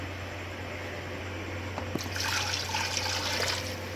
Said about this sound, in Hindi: यहाँ पर मैं अब 1 लीटर पानी इसमें शामिल करूँगी ताकि हम इसकी यखनी तैयार कर सकें